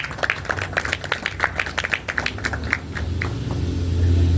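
Audience at a literary event applauding book authors, a patter of individual claps that thins over a few seconds and fades into a low rumbling room tone.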